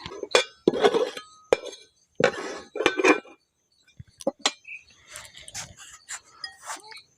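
A container of hot mustard seed paste is covered, with a few sharp metallic clinks and knocks close by, followed by lighter scattered taps and rustles.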